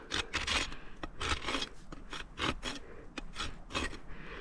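A farrier's rasp files a bevel into the heel edge of a horse's hoof during a corrective barefoot trim, giving close, loud rasping strokes in a steady rhythm of about a dozen passes, with no talking.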